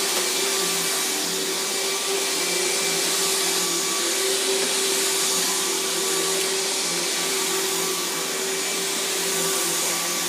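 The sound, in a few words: vacuuming debris along the edge with a hose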